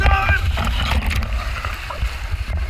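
Water sloshes and splashes on a private water slide inside a hotel suite, a brief burst of splashing and gurgling with an excited voice calling out at the start.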